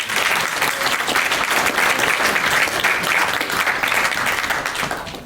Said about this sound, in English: give Karen a big round of applause for organising it.